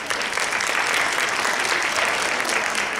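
A school honors and awards ceremony audience claps loudly and continuously, a dense wash of hand claps from a large crowd with no voices rising above it.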